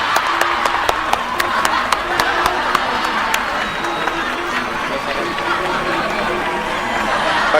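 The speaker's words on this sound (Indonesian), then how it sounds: "Tepuk tangan semua, tepuk tangan." A crowd at a studio show applauds and cheers, with sharp close claps at first that give way to a broad, noisy wash of cheering and chatter.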